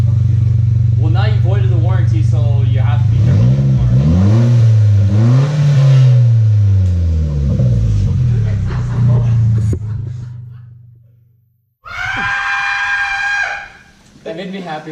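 A car with a Borla straight-pipe exhaust revs hard and loud, its pitch rising and falling through several throttle blips before cutting out, then a short higher-pitched rev. People talk over it.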